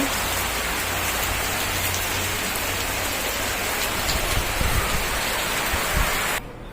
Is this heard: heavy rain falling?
yes